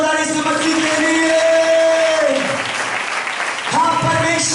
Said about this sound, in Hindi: ताली बजा के जोरदार यीशु मसीह के लिए